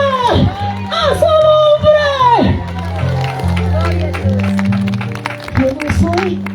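A church congregation claps and cheers in praise during a service, with the dense crowd sound running throughout under a loud singing and speaking voice.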